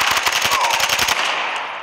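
M4 assault rifle fired in fully automatic in a first-person shooter on the Nuketown map, a rapid close burst of about a dozen cracks that stops abruptly, leaving a short ringing tail.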